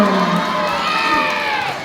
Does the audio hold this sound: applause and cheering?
yes